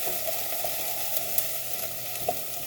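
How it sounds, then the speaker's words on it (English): Onions fry in a pan for a meatball sauce, crackling in a low steady sizzle with a few light clicks of stirring, heard close and alone. "our onions are starting to get a little brown and toasty"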